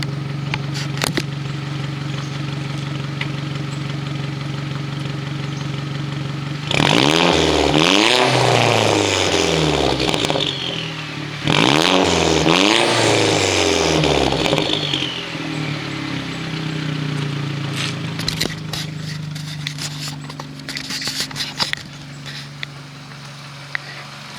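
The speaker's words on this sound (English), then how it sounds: "I'll give you a couple of revs in the front." A Chevrolet Cruze's idling engine is revved twice in strong rising-and-falling bursts, then drops back to a steady idle with some clatter toward the end.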